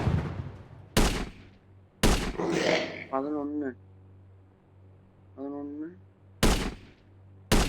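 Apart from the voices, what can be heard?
sniper rifle gunfire in a video game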